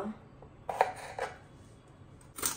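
A knife cuts the ends off peeled carrots on a kitchen surface. There are a few quiet, separate clicks and taps, one near the start, two close together around the middle and another at the end, and nobody speaks.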